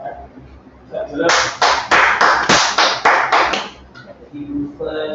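Students in a classroom clap their hands together in a loud burst of applause that lasts a few seconds, with some rhythmic clustering before fading out.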